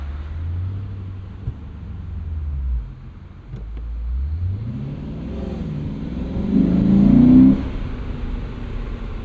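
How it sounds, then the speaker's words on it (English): A 2024 Lexus IS 500 sport sedan with a 472 hp V8 accelerates hard, its engine rising in pitch through several revving surges into a loud, deep roar near the end. "It really does make a good noise, this car."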